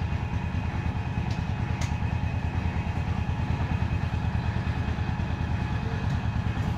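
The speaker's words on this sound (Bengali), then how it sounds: "আগে গোল গোল চাকা ঘুরিয়ে এইগুলো তৈরি করতো, এখন মোটর কারেন্টের সাহায্যে চলে" An electric motor drives a potter's wheel at a pottery workshop in Pirojpur, making a loud, continuous mechanical hum with a fast rhythmic pulse that holds steady throughout.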